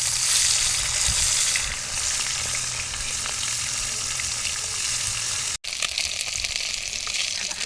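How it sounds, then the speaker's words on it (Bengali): Bhetki fish bones fry in a pan with a loud, continuous close-up sizzle, like rushing water, that stays steady throughout apart from one brief dropout. "মাছগুলো ভেজে নিচ্ছি।"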